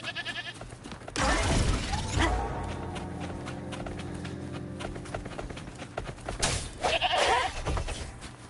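A goat bleats in the video game Wuthering Waves, a loud wavering cry rising over game music and effects, followed by a second burst of bleating toward the end.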